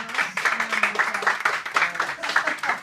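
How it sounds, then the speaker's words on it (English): A small group claps in a quick round of applause at a classroom birthday celebration, steady close patter for about three seconds with voices mixed in. "Round of applause."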